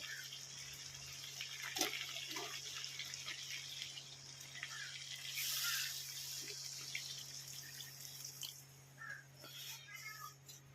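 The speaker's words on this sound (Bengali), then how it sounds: "এবার আমি গরম জলটা ঢেলে দেব" Hot water pours into a simmering mutton curry with a faint, quiet trickle and splashing over a steady low hum, punctuated by a few soft clinks.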